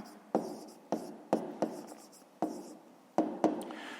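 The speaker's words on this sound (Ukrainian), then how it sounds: "То пишемо тоді" Pen strokes on paper as numbers are written by hand: a series of close, crisp scratches and taps in uneven bursts, quiet and alone.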